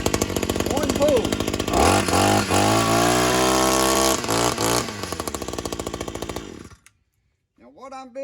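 A Wild Badger 4-in-1 weed eater's small two-stroke engine starts on a single pull, unchoked, and runs loud and close with a buzzing, rising-and-falling idle for about six seconds, then cuts out to near silence before faint sounds return.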